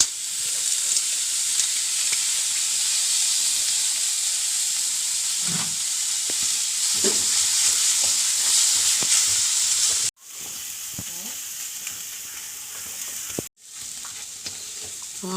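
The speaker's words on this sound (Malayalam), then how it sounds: "മുട്ട ഉടച്ച് വീഴ്ത്തണം" An egg cracked into a pan of Kerala-style thoran seasoned with chilli and turmeric powder, sizzling loudly and continuously with steady hissing frying noise, a few faint stirring clinks and brief cuts in the sound.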